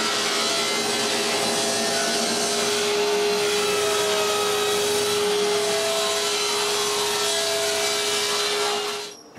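Power saw cutting through a 2x12 wood board, with a steady loud broadband roar and a constant motor whine running unbroken for about nine seconds, then stopping abruptly at the end; no talking.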